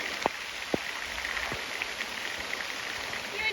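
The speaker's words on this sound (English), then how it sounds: "You enjoying the walk in the rain, Zaf?" Steady rain falling during a walk beside a narrowboat canal, a continuous soft hiss with a few distinct drips, no talking.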